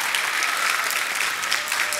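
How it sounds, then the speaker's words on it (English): A large audience applauds throughout at a middle school spring band concert in an auditorium, a dense, steady wash of many hands clapping with no pauses. "How about one more round of applause for our small ensembles?"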